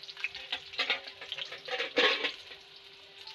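Onion sizzling in hot oil for a spicy fish curry, a steady crackling fry with louder bursts of sizzle as the pan is stirred, close and alone without talk.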